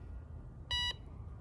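A new metal detector in a backyard gives a single short electronic beep on a find, clear and close over quiet background.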